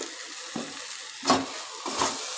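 A chilli-spiced mash, seasoned with Kashmiri chilli powder, being stirred in a pan, with a few soft scraping strokes over a quiet, faint sizzle and no talking.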